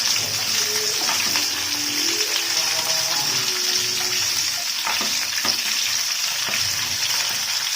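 Cauliflower florets frying in hot oil in a pan, a steady close sizzle running the whole time with a few clinks and stirring scrapes mixed in.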